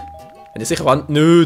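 A doorbell chime from the New Super Mario Bros. U video game rings with a sustained tone, then a voice talks over game sounds.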